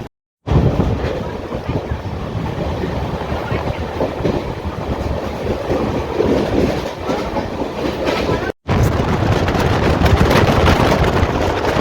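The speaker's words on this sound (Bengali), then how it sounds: "আবার ট্রেনটা ছেড়ে এখান থেকে বেরিয়ে" The Malda–Bengaluru Amrit Bharat Express rumbles steadily along the rails, heard from onboard, with a dense, continuous clatter and wind rush, loud and close, after a brief silent gap at the start.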